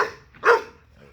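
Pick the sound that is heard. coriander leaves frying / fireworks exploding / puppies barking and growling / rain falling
puppies barking and growling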